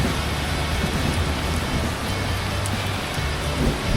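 Rain falling on a mountain, a dense, constant hiss of drops striking nearby surfaces, loud and steady throughout with no voices.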